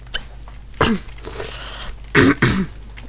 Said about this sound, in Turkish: Abi çok öksürüyorum.